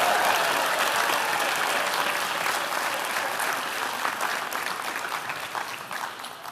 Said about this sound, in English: Ladies and gentlemen, this is an opportune moment to give our graduates a big hand for their hard work and perseverance.